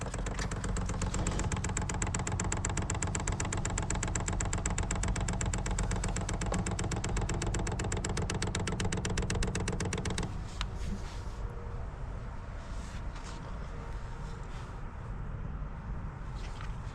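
A new Temu diesel heater's fuel pump primes with a rapid, even ticking pulse over a steady motor hum for about ten seconds, then stops, leaving a softer running whir with a few clicks.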